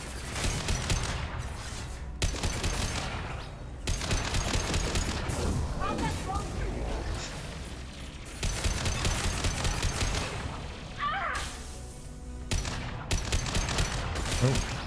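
Sustained gunfire from a squad firefight in Mass Effect 2 while shooting Tali, with rapid bursts and repeated shots throughout, broken by brief pauses, loud and continuous over game background noise.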